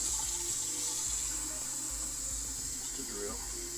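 Water pours and splashes steadily into a wine glass, like a tap running into a container, with a faint low voice murmuring underneath.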